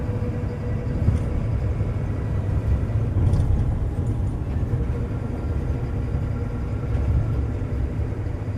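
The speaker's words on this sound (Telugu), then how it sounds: "ఈ ట్రాలీ చూడండి ఎంత పెద్ద ట్రక్ వేసుకొస్తుందో" A large truck hauling a trolley rolls past at a highway toll gate, a constant heavy low engine rumble with traffic noise that stays close and steady throughout.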